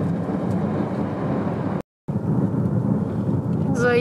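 Thunder rumbles through a thunderstorm heard from a car driving into the storm near the sea, a loud low rolling roar under steady road noise, cut by a short silent gap midway.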